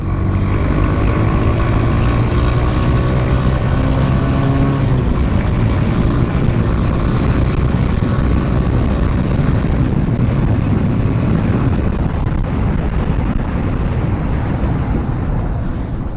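A Hero Honda Karizma R sport motorcycle accelerating under throttle, its engine note climbing for the first few seconds before giving way to a steady rush of wind and road roar, loud and continuous with no talking.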